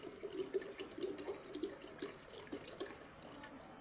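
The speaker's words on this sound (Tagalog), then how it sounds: "Maglagay na 5 litro ng tubig yan." Water runs steadily from a tap into a container, five litres for making liquid detergent, with a soft splashing trickle and faint clinks, fairly close and moderately quiet.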